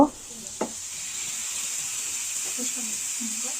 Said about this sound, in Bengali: সবগুলো একটা একটা করে দিয়ে ভেজে নিব